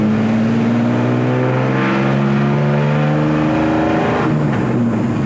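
A 1970s Nissan 240Z salt flats race car engine revs loudly and aggressively on a street, a steady close roar with harmonic drone and slight pitch shifts throughout.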